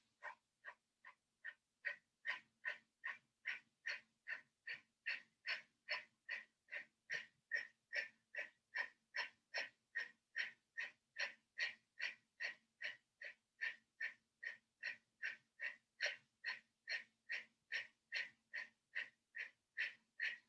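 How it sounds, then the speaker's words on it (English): A rapid breathing exercise, a set of 50 forceful breaths taken about two per second, each a sharp, hissing puff in a steady rhythm, close and alone without talk. "So this is a great breathing exercise you can do anywhere, even in a car."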